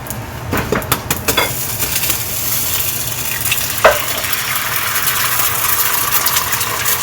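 Eggs fry in a hot pan with a steady close sizzle, some stirring scrapes and a sharp clatter partway through.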